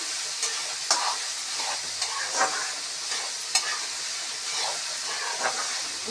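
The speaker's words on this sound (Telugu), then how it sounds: "కాకరకాయ అయితే బాగా ఆయిల్లో డీప్ ఫ్రై అయితే అవుతుంది" Bitter gourd deep frying in hot oil gives a steady broadband sizzle, punctuated by occasional sharper crackles and stirring scrapes, close and alone with no voices.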